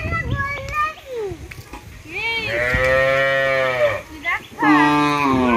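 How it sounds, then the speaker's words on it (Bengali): Cows moo loudly and close by on a rural Bengali farm, with several long, drawn-out lowing calls following one another while children's voices chatter around them. "গরু দেখতে এসেছে, গরু।"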